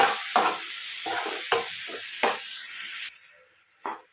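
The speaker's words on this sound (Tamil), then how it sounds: "இப்போ ஒரு மூணு தக்காளி இதை இதோடு சேர்த்து வதக்கலாம்" Three tomatoes sautéed in a hot pan for a village-style sundakkai vatha kuzhambu, a loud close sizzle with rhythmic stirring scrapes that falls quieter near the end as the heat drops.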